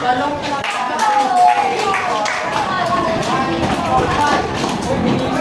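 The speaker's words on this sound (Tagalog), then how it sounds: "Bigyan naman natin ng 5 palakpak at 5 padyak ang panghuling pangkat." A group in a classroom or assembly claps in a burst of many overlapping hand claps mixed with thumping foot stomps, loud and close, with voices and chatter underneath.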